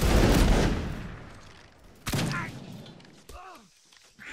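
A video-game grenadier regiment fires a loud musket volley at the start, followed by a second ragged burst of shots, then a brief voice near the end.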